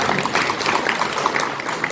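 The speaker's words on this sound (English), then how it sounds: "Give a round of applause to Himraj." An audience at a sales training session applauds a participant, a brief burst of many hands clapping at a steady, moderately loud level.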